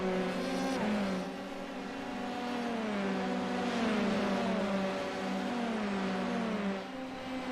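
F3 race cars in a sim racing game, their engines whining in several overlapping high-pitched tones that rise and fall through gear changes, loud and continuous.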